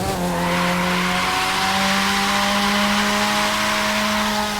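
A car in the racing game The Crew 2 loops around a tight little circle, its engine droning loud and constant while the tires squeal continuously.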